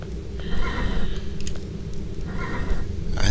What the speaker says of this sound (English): I think that thing's making horse sounds.